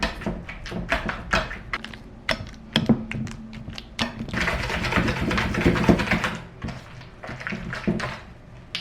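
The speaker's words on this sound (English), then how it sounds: "Now, whisk it up." A whisk beats a batter of sour cream and other ingredients in a bowl, giving quick irregular clicks and scrapes that speed into a dense, wet swishing run before slowing again, close and fairly loud with no talk.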